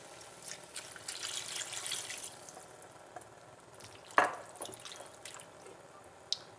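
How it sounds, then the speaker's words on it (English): Broth poured into a pot of beef and Guinness stew with tomato and onion, giving a soft liquid splash and trickle, with a brief sharper splash midway and drips, close and moderately quiet, no talking. "Then you want to add your broth."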